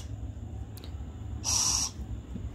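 An owl at a wildlife rehabilitation shelter in Bihar calling while being fed chicken liver, a single sustained screeching call of about half a second over a low steady background hum.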